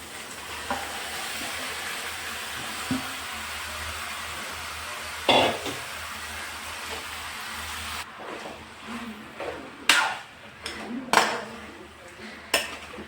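A spoon stirs marinated chicken pieces with masala spices in a pot, scraping and clinking against the metal in irregular bursts over a quiet background hiss, louder strokes clustering toward the end.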